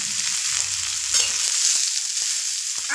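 Minced onion frying in a pan for a stuffed savory snack, a steady close sizzle with light stirring scrapes and a few soft knocks, continuous and without speech.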